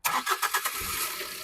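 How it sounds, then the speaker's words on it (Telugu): A 2017/18 Tata Nexon XZ+ diesel with manual gearbox fires on a single crank, a short churning starter burst that catches and settles into a smooth, fairly quiet idle close by. "చూసుకోవచ్చు సింగిల్ సెల్ఫ్లో స్టార్ట్ అవుతుంది"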